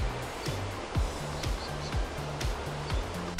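Ocean waves wash onto the beach at Port Douglas, Australia, on an overcast evening, a continuous broad surf roar with rhythmic low thumps throughout, no voices.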